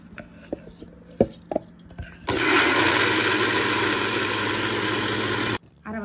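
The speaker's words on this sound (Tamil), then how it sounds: "நல்லா அரைக்க போகிறோம், கரண்டு போட்டு அரைக்க போகிறோம்." A mixer grinder roars loudly and steadily for about three seconds, grinding rice and coconut, then cuts off abruptly. A few sharp kitchen clicks and knocks come before it.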